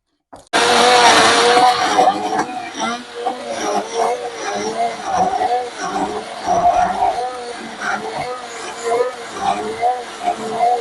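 A blender whirs loudly and steadily as it mixes homemade chocolate ice cream, starting abruptly after a brief silence, with a voice talking over the motor noise.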